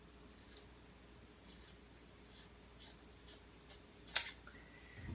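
Several soft, spaced snips of scissors cutting through fabric for a jabot valance, close and quiet, ending with a sharper snip.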